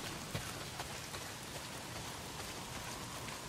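Rain pouring down in the video game Days Gone, a continuous soft hiss of rainfall with occasional faint drop ticks, quiet and without speech.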